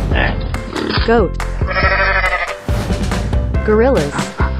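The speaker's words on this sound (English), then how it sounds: "Goat." A goat bleats loudly and up close in a run of wavering, quavering cries with short pauses between them.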